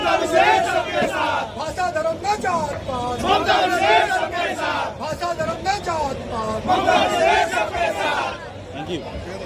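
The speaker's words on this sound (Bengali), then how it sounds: "স্লোগান দাও, একটু স্লোগান দাও।" A large crowd chanting slogans in unison at a grand political procession, rhythmic shouted phrases repeating loudly and steadily over a background of crowd noise.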